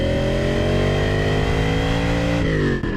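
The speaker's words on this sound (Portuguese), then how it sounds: "mudou o som agudo típico da Ferrari para um ronco grave," A deep, steady Ferrari V8 engine rumble in a Lancia sedan holds a low growling tone, its pitch sliding slightly before easing off near the end.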